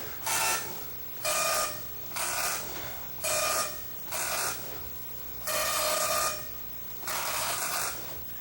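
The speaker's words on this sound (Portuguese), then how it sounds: "a impressora imprimiu cada linha num tipo de letra diferente" An MSX computer printer prints text in seven rhythmic bursts, each a loud, harsh buzzing print-head pass lasting about half a second to a second, separated by short quieter pauses.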